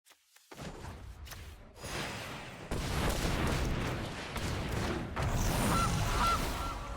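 A goose-like honk sounds from the Gilded Goose card in a Magic: The Gathering digital match, rising over a busy game soundscape of rumbling effects and chimes, no voices.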